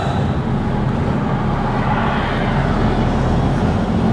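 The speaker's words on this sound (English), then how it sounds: "And I'm stuck in this traffic at the moment." Road traffic heard from inside a car stuck in roadworks on a rainy morning forms a steady, loud low rumble of engine and road noise with no distinct passing vehicles or talk.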